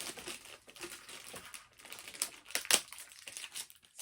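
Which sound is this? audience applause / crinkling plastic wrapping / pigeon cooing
crinkling plastic wrapping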